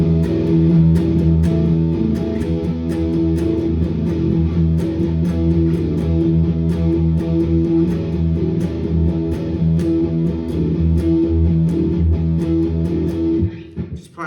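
Heavy riff on a distorted electric guitar, dense and loud with sustained overdriven chords and a pedal-tone drive, played continuously without talk.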